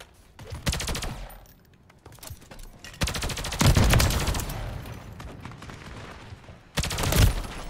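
Rapid automatic gunfire in a video game shooter comes in three loud bursts: a short volley, a long sustained stretch of shots with heavy low thumps, and a final close burst, separated by brief quieter gaps, with no talking.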